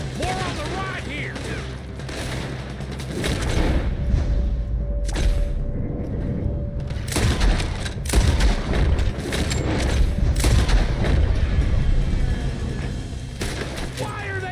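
Rapid gunfire volleys and booming shots in a Red Dead Redemption 2 shootout, loud and dense throughout, with game music, impacts and shouting voices mixed in.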